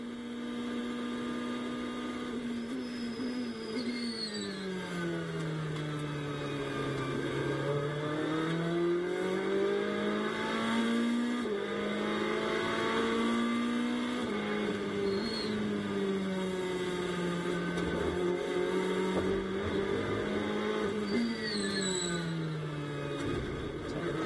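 An onboard view from the number 61 GT race car driven by Tony Vilander on a lap of the Virginia circuit. Its engine gives a sustained, loud drone that rises and falls in pitch through the corners, with no talk over it.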